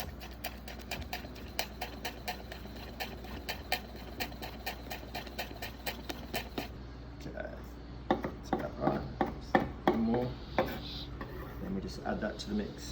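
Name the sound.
knife finely chopping folded lime leaf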